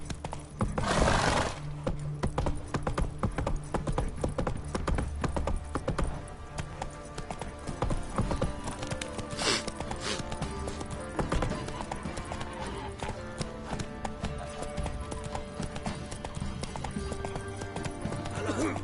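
Roach, Geralt's horse in The Witcher 3, gallops hard with rapid, loud hoofbeats, a whinny near the start, and a dense wash of game sound that fills the whole stretch.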